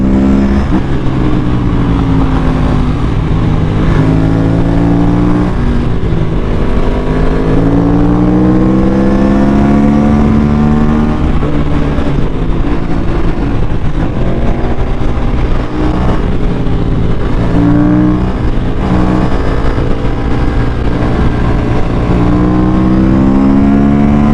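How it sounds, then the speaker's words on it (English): A modified Aprilia RS457 sport motorcycle being ridden hard on the street, its engine note loud and close, rising and falling through repeated revs and gear changes with no talking. "You hear the quick shifter pop?"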